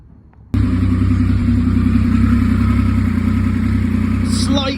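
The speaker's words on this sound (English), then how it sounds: "Going to run it up to temperature now" A rebuilt Triumph Sprint 955i RS motorcycle engine fires up abruptly after a moment of quiet and holds a loud, steady, close idle, with a voice briefly heard.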